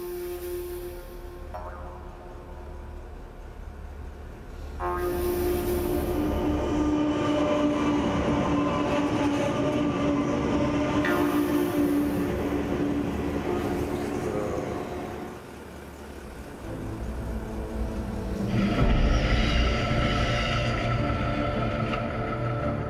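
Trains rumble and clatter past on the rails in Australia for a long stretch, with rolling wheel noise, a metallic whine, and a fresh surge of passing cars near the end.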